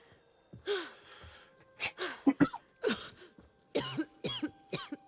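A character in the video game Horizon Forbidden West coughs repeatedly, a series of harsh, raspy bursts with throat clearing and gasping breaths between them, fairly close and moderately loud against quiet background.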